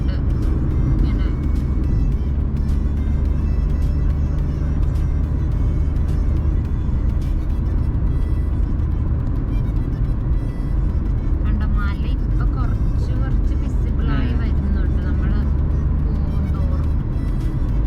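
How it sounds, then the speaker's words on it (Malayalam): Steady, loud road rumble from a vehicle on a highway during a road trip from Punjab to Manali, holding at a constant level throughout, with people talking over it. "വണ്ടി വരുന്നുണ്ട്."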